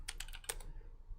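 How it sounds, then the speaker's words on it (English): A short burst of computer keyboard typing, a quick run of several close keystrokes followed by one sharper tap, then quiet room tone. "I'm typing in what I think the song name is"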